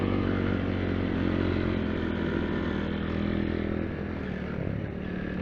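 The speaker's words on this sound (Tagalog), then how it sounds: "Mahagok nga yung motor ko eh" A motorcycle engine running roughly on a trail ride, a steady loud close drone with uneven clattering texture throughout and no talk.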